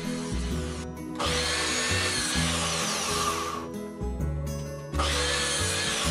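Power saw cutting wooden crate boards to length, three sustained loud cuts with short dips between them, close and harsh with no voices.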